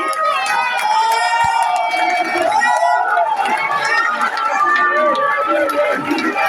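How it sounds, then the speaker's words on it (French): A crowd at a regional arts assembly cheers and shouts in a loud, continuous roar of voices with whoops and high calls, close and dense throughout. "c'est pour ça que je veux qu'on acclame encore pour Majesty"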